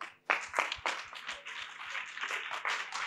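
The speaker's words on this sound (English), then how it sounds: "Let's clap for Jesus." Church congregation clapping in a rebroadcast worship service, quick rhythmic claps with voices singing and calling over them, fairly faint overall.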